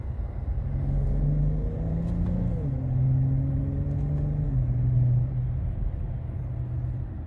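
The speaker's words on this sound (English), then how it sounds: "it goes all the way to red line because it is a 6-speed" A Dodge Challenger SXT V6 with a 6-speed automatic gives a steady, low engine drone from inside the cabin that climbs in pitch, dips briefly at a shift, then holds, with no talk.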